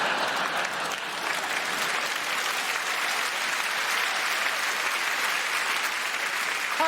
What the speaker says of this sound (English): thanks for that, thanks for the applause